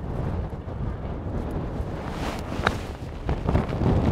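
Strong wind buffeting the microphone on a seaside golf course in Scotland, a steady low rumbling roar throughout.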